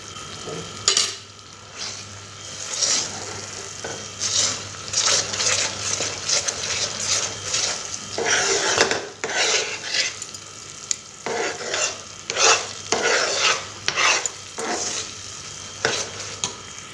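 Coconut kova thickens with ghee in a pan under constant stirring, with repeated scraping strokes over a continuous sizzle that swell and fade in an uneven rhythm.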